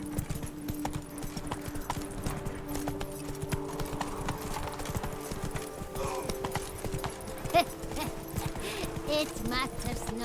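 Hooves of Roach, Geralt's horse in The Witcher 3: Blood and Wine, clopping in a steady rhythmic gait, with game music and a voice heard alongside.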